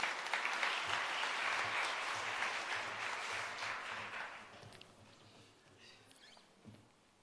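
An audience at a capacity building workshop breaks into dense, sustained applause that gradually tapers off into a quiet room with faint movement.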